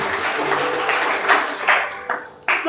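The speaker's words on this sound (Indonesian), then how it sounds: "Tepuk tangan yang paling meriah buat Tuhan." A church congregation applauds during worship, a dense patter of many hands clapping at moderate loudness, with a few sharper bursts near the end before it thins.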